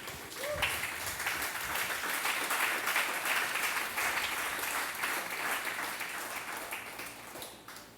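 A church congregation bursts into sustained applause, a dense wash of many clapping hands that swells quickly and holds steady before gradually thinning out near the end.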